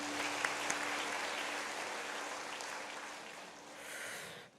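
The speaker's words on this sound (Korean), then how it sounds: "옆에 분을 위해서 한번 박수하죠." A church congregation applauds together, a broad sustained clatter of many hands that holds steady and then tapers off at the end.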